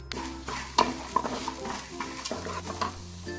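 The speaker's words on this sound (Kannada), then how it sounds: "ಕೊನೆಗೆ ಒಂದು ಚಮಚದಷ್ಟು ಅರಸಿನ ಪುಡಿಯನ್ನು ಸೇರಿಸಿ ಚೆನ್ನಾಗಿ ಫ್ರೈ ಮಾಡೋದು" Coriander seeds fry with turmeric powder in a pan while a spoon scrapes and stirs, giving a soft sizzle under clear, irregular metallic clinks, with background music and no talk.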